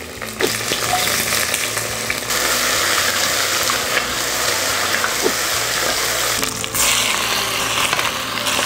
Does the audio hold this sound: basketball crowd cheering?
no